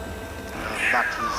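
A cub on a South African safari gives a brief, rising, desperate call to its mother, a single plaintive cry heard faintly over steady background noise while a person speaks.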